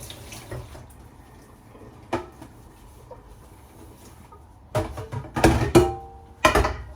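Tap water runs into a kitchen sink during dishwashing, with a quiet trickle giving way to several louder bursts of splashing and clattering near the end.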